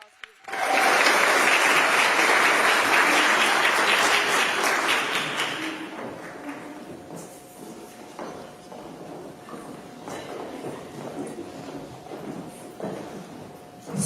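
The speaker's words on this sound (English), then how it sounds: "Let's give these ladies a round of applause" Enthusiastic audience applause at a graduation ceremony bursts in loudly, holds for about five seconds, then dies away into scattered claps, room noise and faint movement.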